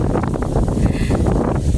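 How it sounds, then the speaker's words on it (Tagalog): Strong wind at a beach buffets the microphone in a continuous loud roar with gusting rumble, no voices heard. "sobrang lakas ng hangin"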